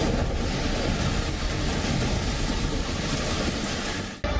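Rushing flood water roars through a swollen stream in Kotla, Kangra district, Himachal Pradesh, after heavy rain, a loud continuous broadband surge that cuts off abruptly at the end.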